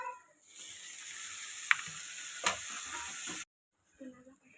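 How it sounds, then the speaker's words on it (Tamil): Onion and garlic paste sautéing in a pan, a steady close sizzle and fry with stirring scrapes and a couple of sharp clinks, ending in a brief silence before a short burst resumes. "வெங்காயம் போடலாம். வதக்கிக்கலாம். பூண்டு பேஸ்ட் போட்டுக்கலாம்."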